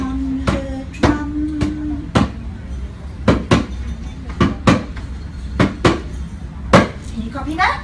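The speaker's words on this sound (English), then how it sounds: "Listen to the Indian play upon her drum." Sharp percussive hits struck on homemade pots-and-paper drums in an irregular rhythm, loud and close in a room, with a faint voice between strikes.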